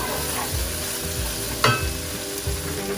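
Tomatoes fry in hot oil and masala for a crab roast, a steady close sizzle broken by a few stirring scrapes and one sharper clink of a utensil against the pan.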